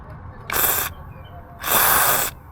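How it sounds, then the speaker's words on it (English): WD-40 sprayed from an aerosol can around a Ford Focus engine mount: two close, loud hissing bursts, a short one and then a longer one, separated by quiet workshop background. "I'll spray around it."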